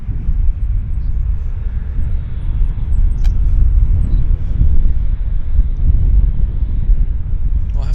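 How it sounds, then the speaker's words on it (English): Airbus A319 jet taxiing out at Vancouver airport, a steady low rumbling engine drone heard from a distance, continuous and even, mixed with wind noise. "This is the Prime Minister of Canada's aircraft, Mark Carney, taxiing out right now."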